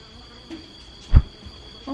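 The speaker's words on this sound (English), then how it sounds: "there's a big ass bee behind us" A large bee buzzes close by outdoors, a brief loud swell of droning near the middle of a quiet stretch, with faint insect hum around it.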